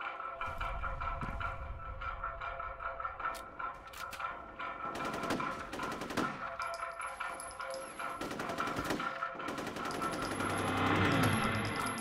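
Continuous automatic gunfire from the video game FEAR: Extraction Point, rattling bursts layered with bright metallic clinks of ejected casings, steady and loud throughout.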